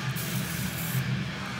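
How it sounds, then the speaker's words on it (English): Steady hiss of an aerosol lubricant spray aimed at rubber exhaust hanger insulators during a Borla S-Type exhaust install, a continuous close burst lasting under two seconds. "A little spray to lubricate the rubber,"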